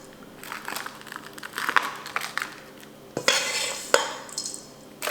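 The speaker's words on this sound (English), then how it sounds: "we're just going to take the spoon and just spread this crumb mixture out all over the top of the apples" A spoon scrapes and scuffs as crumb topping is spread over apples for an apple crisp, making irregular crumbly rustles and light metallic clinks, close and moderately quiet.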